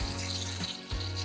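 Cold tap water runs steadily into a kitchen bowl to cool freshly boiled soft eggs, a continuous close hiss and splash with a low hum underneath.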